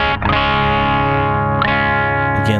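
Electric guitar run through a pedalboard straight into a mixer with no preamp, giving a loud, heavily distorted sustained chord with chorus-like shimmer, restruck about a second and a half in.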